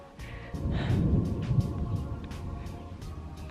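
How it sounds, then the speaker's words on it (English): Thunder rumbling overhead during a storm in the woods, a deep rolling boom that swells after a quiet start and lingers as a long, fading growl with rain hiss beneath. "Thunder overhead."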